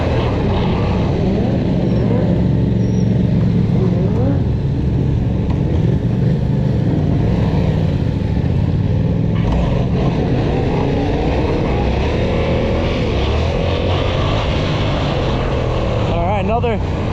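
A stock Yamaha FZ07 motorcycle engine holds around 4,000 RPM as the rider slips the clutch and lifts into a wheelie: a loud, steady engine drone mixed with wind rush and a rising rev toward the end, with a voice talking over it.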